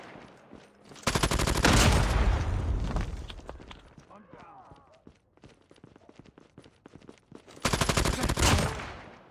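Call of Duty Mobile gunfire comes in two long, loud bursts of rapid automatic shots. Between them are scattered single cracks and some in-game radio-style voice lines.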